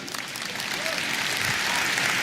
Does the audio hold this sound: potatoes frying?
no